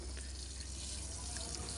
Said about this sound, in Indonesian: langsung kita siram saja, kita pupuk generatif ya